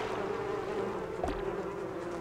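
Bees buzz in the video game Donut County as a steady, close drone with one brief louder swell partway through.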